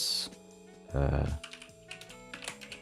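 Keystrokes on a computer keyboard tapping in short bursts, with a louder cluster of presses near the middle and lighter scattered clicks after, close and fairly quiet.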